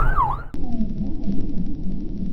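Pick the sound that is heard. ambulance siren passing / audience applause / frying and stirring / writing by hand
ambulance siren passing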